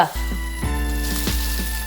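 Curry leaves sizzling and spitting in a hot pan, a loud close crackle with sharp pops every half second or so.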